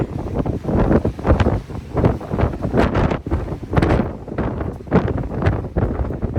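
Strong gusts buffet the microphone in loud, rough bursts, rising and falling repeatedly for the whole stretch.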